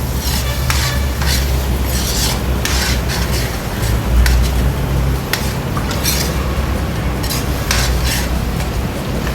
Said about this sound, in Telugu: ఇలా పద్దాకా కలుపుకుంటూ ఉండాలి లేకపోతే అడిగంటి పొద్ది